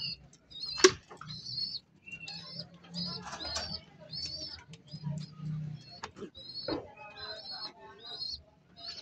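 Pigeons in a breeder's loft coo softly and repeatedly, with a sharp burst of wing flapping near the start and further brief flutters, while someone talks quietly in the background.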